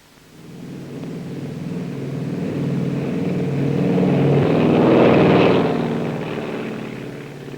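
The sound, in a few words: Northwest Flight 6 aircraft taking off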